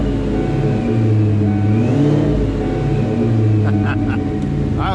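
A car engine runs steadily close by after a completed restoration, its hum holding a fairly constant idle with slight swells and a few clicks near the end; a person talks faintly.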